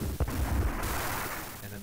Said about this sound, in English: his construction yard is being destroyed